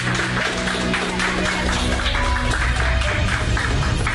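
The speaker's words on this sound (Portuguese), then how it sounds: "No vídeo, Ibanez é recebido com aplausos e abraços ao entrar no gabinete." Applause greets Ibanez as he enters an office, loud dense clapping from a gathered group mixed with crowd murmur, continuous throughout.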